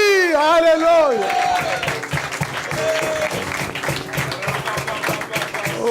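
A church congregation breaks into applause and acclamation for a pastor, dense clapping with crowd voices and a rising shout, while a sung or called-out voice rings over the start.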